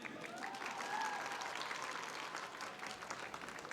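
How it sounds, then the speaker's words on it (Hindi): Women in the audience at a large IT exam event in Sindh clap steadily, a dense, sustained wash of applause from a crowd throughout. "तो बहनें अपने लिए ही तालियां बजाएं"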